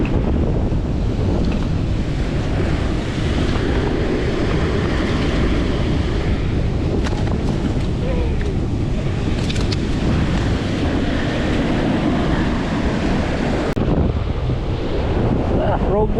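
Ocean waves and strong wind roar steadily and loudly at a coastal fishing spot, with continuous surf wash and wind buffeting on the microphone throughout.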